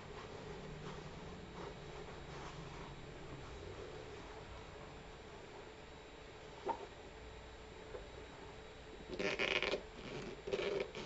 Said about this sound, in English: It has a zipper to fasten the boot.